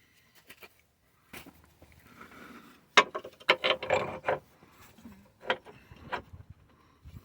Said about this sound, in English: Once they've been tightened up, we can torque both bolts to 80 Nm